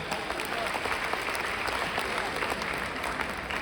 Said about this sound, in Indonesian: Berikan tepuk tangan Bapak Ibu sekalian.